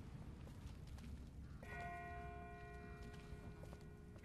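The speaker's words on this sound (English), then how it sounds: "That's not the same bell as before. This one's further off." Distant bell ringing in The Walking Dead video game, a single resonant toll that starts partway through and lingers with a long ringing decay over a low, rumbling ambient background.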